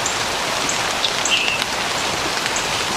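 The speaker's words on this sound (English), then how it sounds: "The rain is picking up on me now," Steady rain falling in the woods, a dense even hiss of drops pattering on leaves and ground, with a few faint bird chirps far off and no voices.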